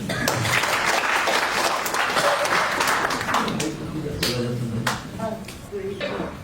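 Seminar audience claps loudly at first, then the applause thins out as a voice begins speaking over the fading claps.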